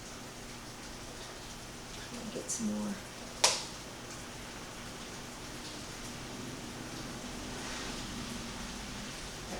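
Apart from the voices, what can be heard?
heavy rain falling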